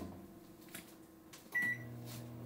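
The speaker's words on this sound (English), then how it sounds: "And then we're just gonna microwave it." A microwave oven chirps with a short beep and then settles into a low, steady running hum, quiet and close, after a few faint clunks.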